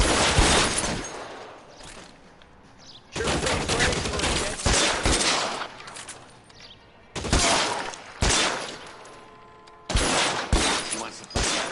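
Suppressing gunfire in LA Noire, loud bursts of rapid shots coming in several separate volleys with brief quieter gaps between them, and a voice speaking faintly underneath.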